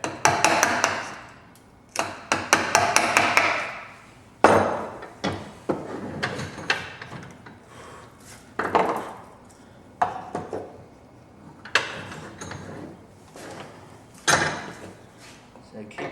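Chisel work on timber while cutting a cross halving joint, heard as a run of sharp, close wooden knocks and scraping bursts in irregular clusters, with pauses between strokes and no talking.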